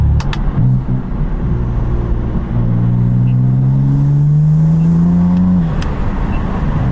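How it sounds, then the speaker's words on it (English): A BMW F80 M3 fitted with titanium front mount intakes pulls hard with its exhaust valves closed, turbo spool whistling over a rising engine drone that climbs steadily for several seconds, then cuts off, loud and close. "you can hear them spooling so much more with the valves closed and just in efficient mode"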